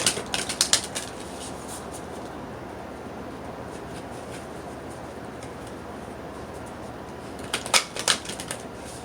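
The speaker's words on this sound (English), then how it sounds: "I'm going to go ahead and have to shuffle these down here." Oracle card deck shuffled by hand in quiet room, crisp papery riffles and flicks clustered at the start and again near the end, with a faint steady hiss between.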